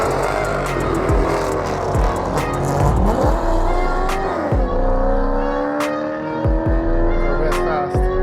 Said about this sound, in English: we got a Corvette in the left lane and a Charger in the right lane.